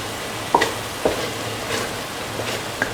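An egg fries in a pan with bottle gourd rice, a soft continuous sizzle broken by a few sharp spatula scrapes and taps, close by and with no voices.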